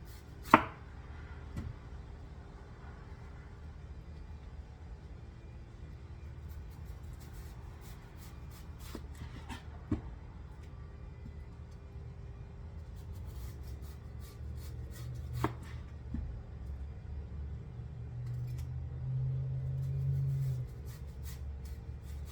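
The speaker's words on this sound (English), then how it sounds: "These, I think, are the best onions to have, are the sweet onions. You thin slice it." A knife thin-slices sweet onions on a cutting board, with scattered quiet taps and soft scraping strokes at an irregular pace, close up and faint, with no talking.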